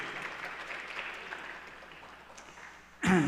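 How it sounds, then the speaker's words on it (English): An audience at a faith and culture talk on immigration applauds steadily, and the clapping fades toward the end before a sudden loud burst cuts in. "a round of applause for them."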